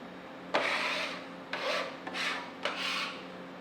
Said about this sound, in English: So take my scraper, drop it into my bowl.